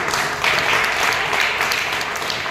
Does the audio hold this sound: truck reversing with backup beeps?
no